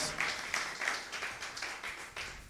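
Steady clapping from a church congregation, rhythmic and fairly quiet, with pulses roughly every third of a second, heard at some distance.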